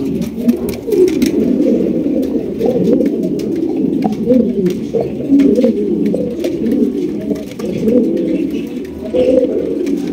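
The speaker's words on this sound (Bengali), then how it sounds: "এখানে রয়েছে আরো এক জোড়া লাল টকটকা এক জোড়া কিং কবুতর" A pair of red king pigeons coo in low, rolling, repeated calls close by, steady throughout, with faint clicks and background bird sounds.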